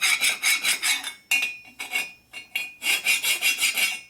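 A file rasps on a Harley Shovelhead engine case in short, bright, close strokes, grouped in bursts with brief gaps between them and no talking.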